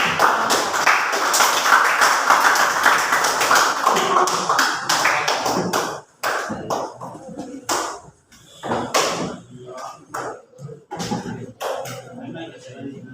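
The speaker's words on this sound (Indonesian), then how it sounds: "Mari kita berikan aplaus." A history class applauds, with dense clapping for about six seconds, then scattered claps and taps trailing off into separate sharp hits.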